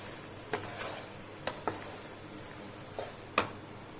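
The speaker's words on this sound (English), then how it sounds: "we'll give this all a good mix" Spinach pesto pasta is stirred in a pan with pepper, giving soft scraping taps of a spoon against the pan over a low sizzle, quiet and close, spaced irregularly.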